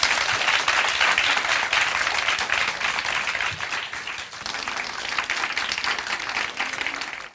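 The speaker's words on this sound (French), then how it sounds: "Est-ce qu'on peut applaudir Fabrice, s'il vous plaît" Audience applause at a live recording of a French podcast before a crowd, dense, steady clapping that stays loud and full throughout before cutting off at the end.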